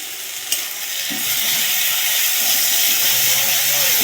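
Ground ginger, garlic and green chilli paste frying with browned onions, giving a loud, continuous hiss and sizzle close up, with a single utensil tap near the start.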